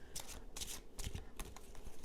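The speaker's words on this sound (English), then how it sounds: "I'm just going to keep shuffling because I feel that there's something else there" Tarot cards riffled and shuffled by hand in a few quick bursts of papery flapping and soft slaps, close and fairly quiet, with no talking.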